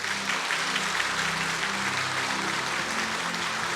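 A church congregation applauds a retiring deacon during a Sunday service, dense sustained clapping from many hands filling the room evenly throughout.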